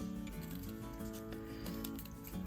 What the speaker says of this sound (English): I'm going to grab my scissors and I'm going to cut this sort of into a circle shape.